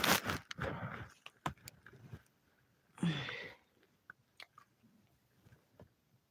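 Fruit Mentos candy being chewed close to the mic, a series of crunchy bites and wet chewing bursts in irregular clusters, separated by quiet gaps.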